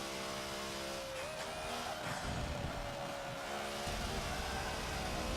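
A BMW M8 GTE race car in Forza 7 holds a loud, steady high-revving engine note down a straight, with a brief shift-like dip early on, continuous and close throughout.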